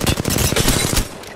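Rapid automatic gunfire in Apex Legends, a dense burst of shots lasting about a second at close range, loud and continuous, then cutting off.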